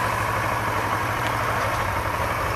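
A motorcycle engine idles steadily and close by on a ride out to Tagaytay, a low, even rumble with a light vibration and no voices over it.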